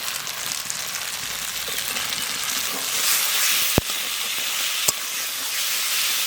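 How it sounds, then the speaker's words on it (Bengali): Chopped tomatoes hit a pan of frying ginger, onion, garlic and cumin paste, giving a steady loud hiss and sizzle that runs throughout, with two sharp clicks of a utensil against the pan. "কাটা টমেটোগুলো দিয়ে দেবো।"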